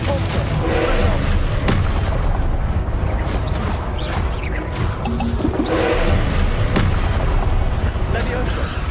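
Spell blasts from Hogwarts Legacy, including fire and blasting curses, go off in rapid succession: repeated booming impacts and crackling bursts over continuous loud game noise, with a voice speaking throughout.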